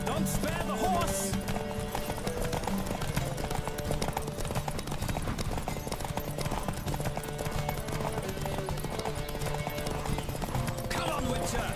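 A horse gallops in a race in The Witcher 3 video game, with steady rapid hoofbeats running throughout over music and crowd noise, occasional shouted voices, and a brief whinny.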